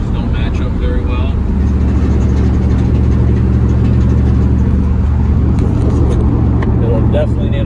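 A 1998 Ram 1500 van with a swapped-in 2014 Hemi V8 and a 2005 Dodge transmission drives along, its engine holding a steady, loud, low droning rumble with road noise throughout.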